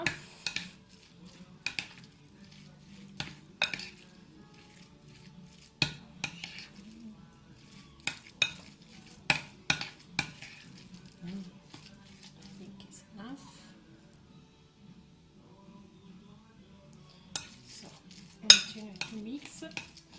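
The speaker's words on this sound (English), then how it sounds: "So let's mix and we'll see if it's enough." Butternut squash arancini mixture being mixed in a bowl, with intermittent scraping and clinking of a utensil against the bowl in uneven bursts over a low steady background hum.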